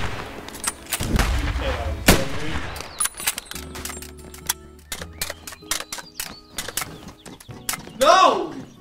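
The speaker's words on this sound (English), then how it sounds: "How many fucking explosions does it take?" Video game explosions and bursts of gunfire hit in quick, loud succession, followed by a low rumbling stretch and a few further sharp cracks, with brief vocal reactions near the end.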